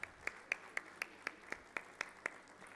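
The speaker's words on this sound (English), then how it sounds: "Round of applause" Steady, evenly spaced hand claps, about four per second, sound faint and distant during a round of applause at a national mining ministers' conference. A single clapper seems to set the rhythm, and no one speaks.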